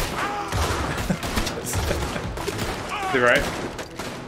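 Gunfire from a firearm in the video game Red Dead Redemption 2, a rapid series of shots mixed with game sounds while a player talks and reacts excitedly.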